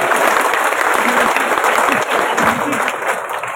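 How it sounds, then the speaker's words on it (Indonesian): Loud, dense applause from a packed crowd at an Islamic sermon gathering in Sokaraja honouring Sayyid Zulfikar, continuous clapping throughout with some voices mixed into the roar. "Tepuk tangan untuk Sayyid Zulfikar"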